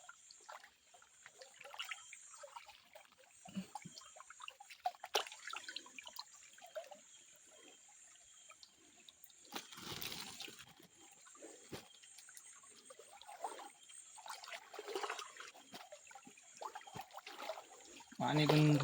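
A shallow village stream in the Konkan, where crabs are being caught, trickles quietly and steadily while people talk over it throughout.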